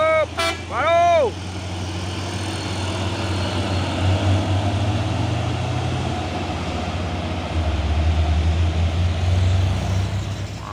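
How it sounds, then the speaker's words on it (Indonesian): A Fuso truck passes close by and sounds a loud, pitch-bending horn in two quick blasts at the start, followed by a steady heavy engine rumble as it drives on. "Masuk lagi nih ya, truk Fuso ini ya."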